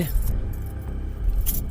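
A bunch of keys jangles close up with metallic rattling bursts, heard alongside a car engine's low rumble in the background.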